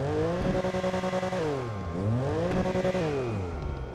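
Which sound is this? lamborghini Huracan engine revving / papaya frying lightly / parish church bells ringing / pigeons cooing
lamborghini Huracan engine revving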